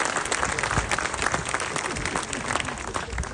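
Sustained, dense applause from an audience at a Menton municipal council meeting, a steady wash of many hands clapping at once with no break for the whole stretch.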